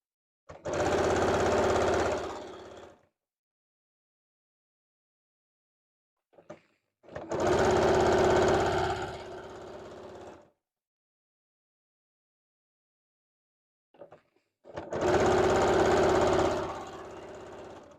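Sewing machine, a model 6600 bought in 2015, stitching a qaspeq vest in three separate runs of steady humming motor and needle chatter, each a few seconds long, close and loud with silent gaps between.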